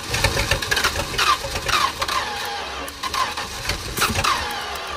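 A small engine cranks and sputters, trying to fire after gas is added, with repeated uneven bursts and chugs close by and short gaps between attempts.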